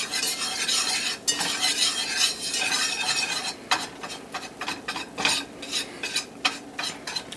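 A utensil stirs and scrapes a flour roux in a hot pan for Swedish meatballs, with a steady sizzle and intermittent clinks against the metal.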